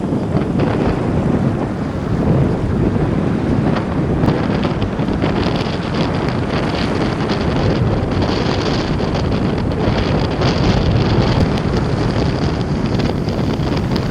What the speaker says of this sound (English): Just trying to get out this wind. It's so windy up here.